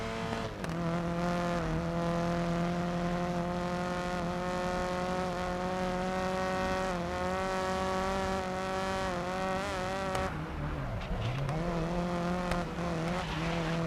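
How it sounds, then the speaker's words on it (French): A race car spinning out in the GRID Legends racing game: a loud, steady engine drone with shifting harmonic pitch, then a sharp dip and recovery near the end as the car loses grip, with no voices present. "Lui, il fait un tête à queue carrément."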